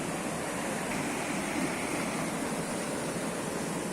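A mountain stream rushes steadily beside its bank, a constant, fairly loud wash of flowing water with no voices over it.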